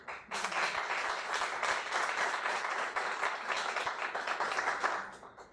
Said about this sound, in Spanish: quiero iniciar esta plática con un aplauso